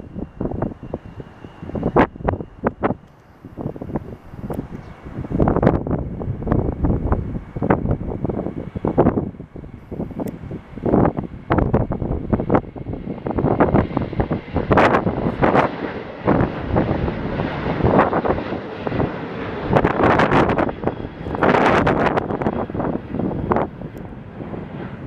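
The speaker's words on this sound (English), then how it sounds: "It is a Southwest Airlines Boeing 737-800 with split simulator winglets taking off on runway 10 right" A Southwest Airlines Boeing 737-800 with split scimitar winglets takes off from runway 10 right, a swelling jet roar buffeted by heavy wind gusts on the microphone, rising and falling over the stretch.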